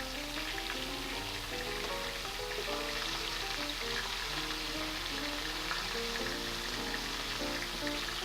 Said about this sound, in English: I'm going to take this over to the stove and fry up my shrimp